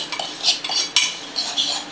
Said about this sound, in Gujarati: ચમચી લઈ લેવો. હવે મિક્સ કરી નાખશું.